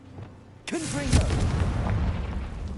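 A Confringo fire spell from the Hogwarts Legacy video game bursts in a sudden loud blast, followed by a crackling, rumbling tail as a voice speaks briefly over it.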